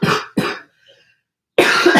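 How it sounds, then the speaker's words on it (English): Two sharp coughs in quick succession, close and loud, then a short silence before a third rough burst. "We get a cough out."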